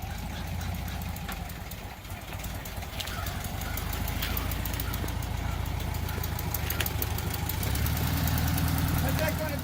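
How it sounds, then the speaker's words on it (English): The motor of a beach limo project car runs steadily. It makes a low, even idling rumble with faint rhythmic knocking, swelling slightly louder toward the end. "Motor sounds so nice."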